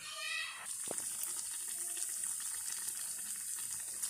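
Egg buns frying in a shallow layer of oil over low heat, a steady fine hiss and crackle filling the whole stretch after a brief higher tone at the start, moderately close and fairly quiet, with no talking.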